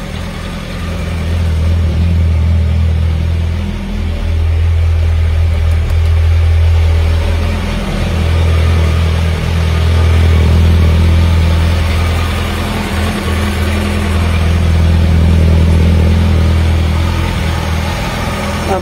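A 2006 Yamaha R1 motorcycle idles in a garage, a loud, steady low engine drone with a slight rise and fall throughout.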